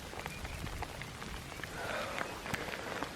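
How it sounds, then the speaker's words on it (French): Hail falls during a rainy bivouac, a dense patter of scattered small impacts on surfaces nearby, fairly soft and steady with no voices. "Regardez, c'est de la grêle qui tombe."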